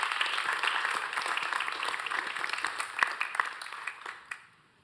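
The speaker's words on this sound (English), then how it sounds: "It's a round of applause for our firefighters who saved a baby's life." Applause at a city council meeting honoring firefighters who saved a baby, a busy patter of many hands that thins out near the end and fades to silence.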